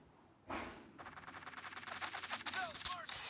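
Video game gunfire, a rapid burst of automatic shots fired in quick succession after a brief quiet start, fairly close and sharp, with faint background noise.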